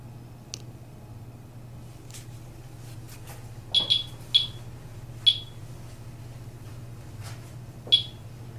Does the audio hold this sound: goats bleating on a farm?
no